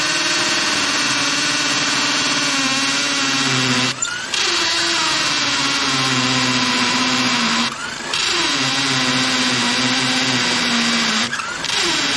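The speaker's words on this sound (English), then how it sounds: "you just drill a 3/8 hole and put that in with an impact" A power drill whines loudly up close in three long bursts, each several seconds, drilling a 3/8-inch hole for a generator installation, its pitch sagging slightly under load, with short pauses between.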